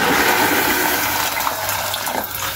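Water runs steadily into a pot of salted water being readied for cooking pasta, a continuous, close, fairly loud gushing that holds evenly throughout with no talking.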